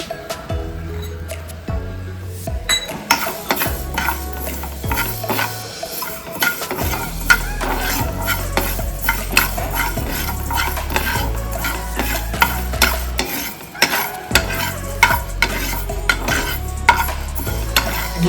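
Coriander seeds dry-roasting in a pan while preparing spice powder for capsicum rice, with a steady sizzling crackle and scraping stirs of a spoon running throughout, close and fairly loud, no talking.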